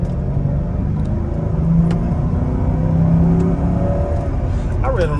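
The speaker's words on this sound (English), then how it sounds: "the car grunts a little bit when you initially take off from a stop, from a dead stop" Mercedes-Benz SL500 pulling away from a dead stop, its engine and drivetrain giving a low steady drone with faint grunting, heard from inside the car under a continuous road rumble with a voice talking over it.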